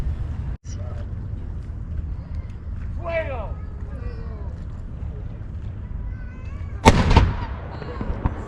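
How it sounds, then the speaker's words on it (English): A single loud boom from a historic cannon firing during a live demonstration at the old fort in St. Augustine, sounding once near the end after a stretch of outdoor crowd murmur and voices. "We're going to have a Canon demonstration here in a couple of minutes."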